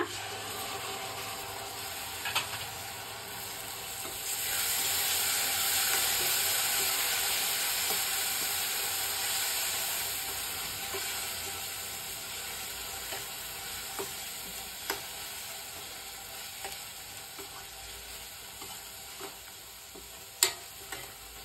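Tomato puree fries in a pan for an egg masala curry, giving a continuous close sizzle with occasional light clicks and scrapes of stirring throughout.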